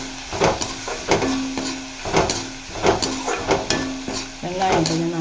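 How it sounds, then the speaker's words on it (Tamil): Onions sauté in a pan for a drumstick-leaf stir-fry, a soft sizzle broken by close, rhythmic scraping strokes of a spatula against the pan, roughly one every second. "வெங்காயம் கொஞ்சம் நல்லா வதங்கட்டும்."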